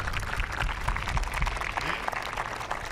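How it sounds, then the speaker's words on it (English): An outdoor crowd at an Australia Day citizenship and flag-raising ceremony applauds a children's choir, a dense, continuous wash of many hands clapping, fairly faint and distant, lasting throughout. "I think we should give them a round of applause."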